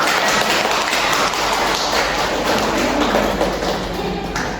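Applause from a seminar audience in a university classroom, a steady dense wash of many hands clapping throughout, fairly loud and continuous without pause.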